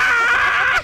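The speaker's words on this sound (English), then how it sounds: "Did you hear that scream?" A sudden high-pitched scream rings out for under a second, loud and close, with a wavering tone that rises sharply near the end before cutting off.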